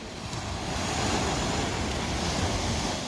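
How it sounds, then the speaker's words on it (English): Ocean waves and surf wash steadily along the rocky shore at Point Lobos in Monterey, California, a continuous broad roar with soft wind noise and no voices. "standing and listening to the ocean is just the best way to go"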